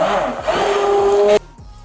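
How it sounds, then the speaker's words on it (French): An electric blender whirs steadily as it mixes a yellow taro sauce with added spices, a loud continuous motor whine that cuts off abruptly near the end. "Je vais encore bien mixer."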